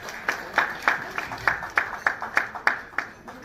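Clapping in a room, a steady run of single claps about every third of a second, crisp and moderately near, with no talk during the claps.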